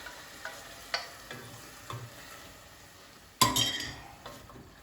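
Potatoes stirred in a pot over a high gas flame, with a soft steady sizzle and scraping, clinking spoon strokes every second or so, one louder clank near the end; no talking.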